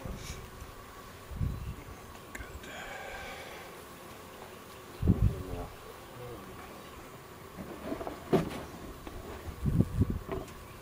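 Honeybees buzzing around an open hive during a spring inspection, a soft continuous hum under wind noise, broken by several close thumps and knocks as a feeder and boxes are handled.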